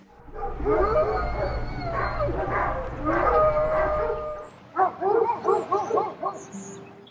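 Dozens of dogs at an animal sanctuary bark and howl together, a chaotic chorus of long wails at first, then sharper repeated barks close by.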